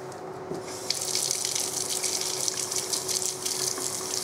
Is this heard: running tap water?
yes